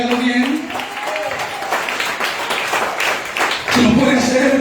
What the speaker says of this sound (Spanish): Si puede aplaudir, hágalo bien.